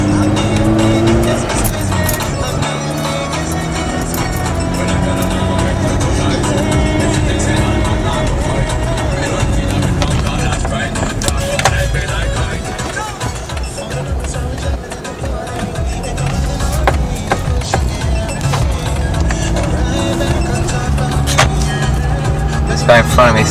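Mazda RX8 rotary engine droning steadily under load while driving, with harmonic engine tones rising and falling through gear changes and brief sharp transients, loud and continuous with some speech over it.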